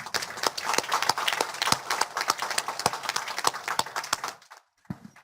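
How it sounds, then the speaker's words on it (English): Hands clap over a remote Zoom call after an academic plenary lecture, a quick, dense patter of scattered claps from several participants that stops abruptly near the end, with one last clap after. "Very unusual to be hand clapping on"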